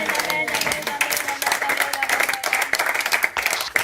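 A church congregation claps and cheers in acclaim of the Lord, dense continuous applause with raised voices mixed in, loud and close throughout.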